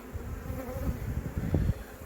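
Honeybees buzz close by at a hive in a low, continuous drone, a soft humming swarm with no voices.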